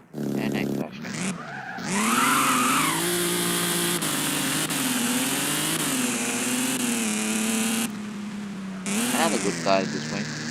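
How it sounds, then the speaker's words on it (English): Car skidding and crashing in the Roblox Driving Empire racing game: a long, loud tire squeal over a revving engine, broken by abrupt impact bursts near the start and end, with a player talking over parts of it. "And I crashed again."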